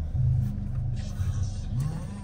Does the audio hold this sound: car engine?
yes